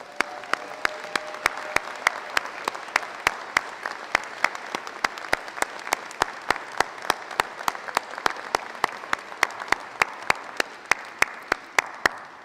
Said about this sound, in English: show our appreciation by a round of